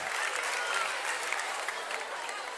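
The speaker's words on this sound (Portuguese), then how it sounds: "uma salva de palmas para eles" A crowd applauds the two top finishers of a contest, dense continuous clapping at moderate distance, fairly soft and steady from start to finish with no voices standing out.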